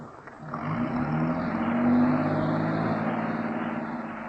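A 1951 radio drama taxi cab pulls away, its engine rising in a steady low drone that swells toward the middle and then settles, heard alone without voices.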